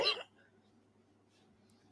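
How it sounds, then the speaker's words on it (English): A single short, sharp cough close to the microphone, followed by quiet low room hum. "I talk to people all day, so coughing a little bit"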